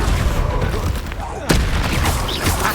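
Explosive Confringo spell blasts in Hogwarts Legacy combat thump through a busy battle mix, with a sharp loud bang near the middle among ongoing booms and rumble, and a voice speaking over the action.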